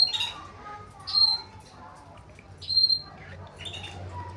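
A male canary gives a few short, high chirps spaced a second or so apart over a quiet room background, fairly close but not loud.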